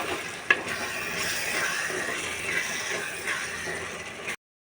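Chettinad fish curry masala with chopped coriander being stirred in a pan, continuous close sizzling with scraping stir strokes and a brief knock early on, ending in a short silence, no talking.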